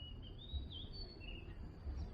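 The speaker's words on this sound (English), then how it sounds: "that sounds like the kingfisher, right?" A kingfisher gives thin, high whistling calls in a wooded waterside setting, faint and somewhat distant over a low background hum, with a few drawn-out call notes across a couple of seconds.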